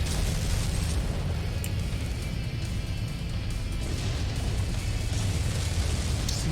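Missiles exploding on target in MechWarrior 5, a continuous loud rumble of blasts and booms that keeps up steadily with no pauses.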